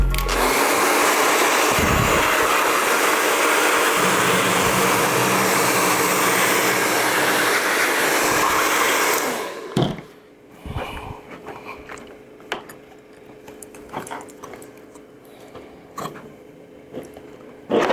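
A heat gun blows steadily onto a motorcycle graphics decal on a 2024 KTM 300 XCW, a loud continuous airy roar for about nine seconds that then cuts off, leaving quiet handling noises.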